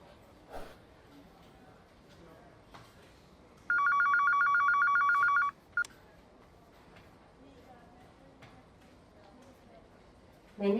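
An office telephone rings in one steady electronic burst lasting nearly two seconds, set among quiet room sounds, with brief knocks before and after and a voice starting at the end.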